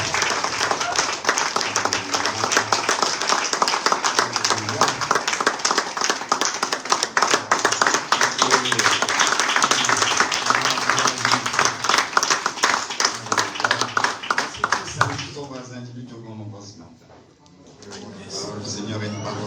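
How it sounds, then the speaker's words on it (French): A church congregation at a Sunday service claps loudly and cheers as an apostle approaches, rhythmic group clapping with voices over music for about fifteen seconds before dropping to quieter sound with talk. "Acclamons bien fort le Seigneur pendant qu'il s'approche"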